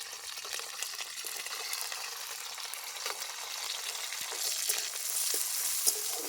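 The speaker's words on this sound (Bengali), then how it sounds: "হালকা ভেজে নেব রসুন আর পেঁয়াজটাকে হালকা ভেজে নেব" Garlic and onion fry in a pan for a pasta dish, a soft, steady sizzle that builds slightly over time, quiet and close with no talking.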